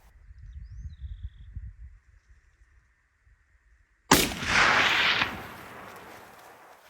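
One loud rifle shot from a straight-pull rifle at aoudad sheep cracks out close by, its blast rolling away in a long echo, after quiet low rumbling, soft murmurs and a brief bird call.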